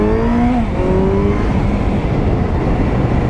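A Honda CB650F inline-4 motorcycle pulling hard under acceleration, its engine note climbing steadily in pitch as it revs up, loud and close with a dense, continuous roar.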